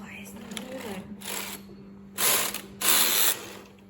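A Brother KH910 electronic knitting machine's card reader runs in short mechanical bursts, a ratcheting whir with a faint background hum and louder clattering stretches near the end; a voice is briefly heard.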